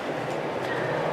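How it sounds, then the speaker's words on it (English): A train rumbles past outside an open window on a warm day, a steady, moderately loud rolling drone heard from indoors, with a faint voice underneath. "Sorry about the train. I have the window open."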